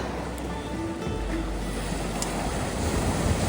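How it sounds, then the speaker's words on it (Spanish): Ocean surf on a black-sand beach in Iceland, waves carrying chunks of ice ashore, heard as a steady broadband wash with wind rumble on the microphone, continuous and fairly loud with no talking. "olas que traen hielo"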